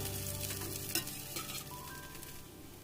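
Pan frying in butter or cooking oil, a soft continuous sizzle with a couple of light clinks and movements in the pan, close and fairly quiet.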